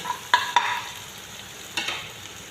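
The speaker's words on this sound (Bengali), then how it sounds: "মশলা সব বাজা বাজা হয়ে গেছে" Spices fry in a pan for a Bengali spicy eel curry, with a low background sizzle broken by a few sharp stirring scrapes near the start and again around the middle.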